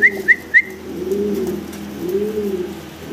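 A pair of black dragon homer pigeons in a fancy pigeon market: low soft cooing rolls on close by, after three sharp whistle-like chirps at the start.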